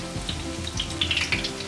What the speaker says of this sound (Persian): باید پشت روی پکوره خوب در روغن سرخ شود